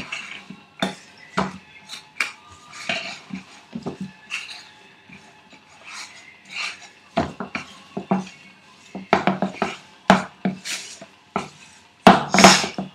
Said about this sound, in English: Mix everything real good so that they all taste alike